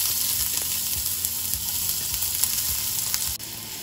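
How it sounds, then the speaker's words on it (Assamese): Onions fry in hot oil with whole five-spice seeds over a high flame. The sizzle is loud and continuous, with soft stirring thumps underneath and no talking. "অলপমান ভাজিম পিঁয়াজখিনি ৰঙচুৱা কৰালৈকে"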